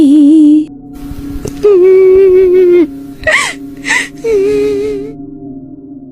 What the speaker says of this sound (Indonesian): Itu suara tangisan